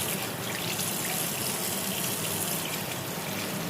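Water running steadily from a tap while a coffee and besan face mask is rinsed off, a continuous close splashing hiss without speech.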